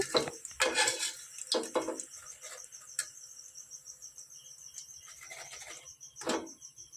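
Crisp fried eggplant fritters (beguni) lifted from a pan of oil, bursts of metal scraping and clinks against the pan set over a steady background chirp of crickets.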